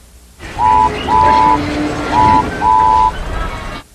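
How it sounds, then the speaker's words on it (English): A cartoon freight train's whistle sounds four times in short and long blasts, loud and close over a low rumble of the train rushing through rail yards. "A freight train came rushing through the yards way too fast."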